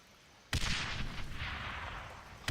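Grenades explode in the video game Darkest of Days, one loud close blast with a long rumbling decay and a second sharp blast at the end, no talk.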